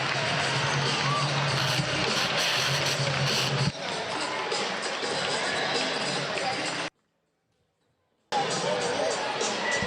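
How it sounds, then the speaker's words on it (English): Crowd noise at a basketball game, Auckland Tuatara versus Taranaki Airs, with loud cheering and clapping and babble. A commentator talks over it, and the sound cuts out briefly before returning. "they give the Tuatara fans, faithful, a round of applause"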